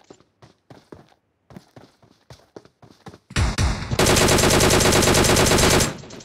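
Gunfire in a video game match: a run of sharp single shots with short gaps, then a loud, dense burst of sustained automatic fire that cuts off abruptly.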